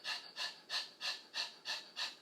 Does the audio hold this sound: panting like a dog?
yes